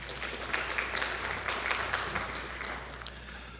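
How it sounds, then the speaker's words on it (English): A crowd applauds at a school awards assembly in a hall: a fairly faint, steady patter of many hands clapping together for a few seconds, with no voices over it. "Can you give them another round of applause?"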